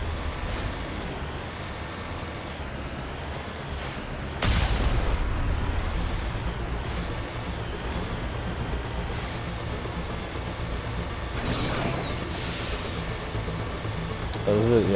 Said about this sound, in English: Run head first into the missiles